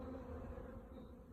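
Honey bees buzz densely around a hive box, a continuous low droning hum from many insects close by, with an occasional brief higher whine from a single bee passing near.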